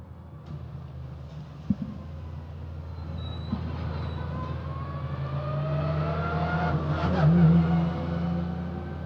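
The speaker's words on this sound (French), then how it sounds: "aux côtés de la numéro 107, on aperçoit la voiture de Didier Glorieux." Race cars at the Hockenheimring during a Pièces Auto Hyper Sprint race, engines droning steadily and building to a loud revving pass with rising pitch, heard alone without talk.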